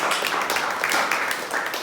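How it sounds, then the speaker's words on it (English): A comedy club audience in Minneapolis claps in steady, dense, close applause. "Keep it going for Eric and always round of applause."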